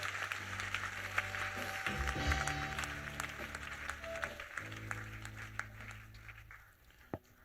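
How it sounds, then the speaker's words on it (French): A church congregation applauds, a steady wash of clapping heard at a distance that fades gradually, with sustained musical tones underneath. "Acclamons le Seigneur Jésus-Christ."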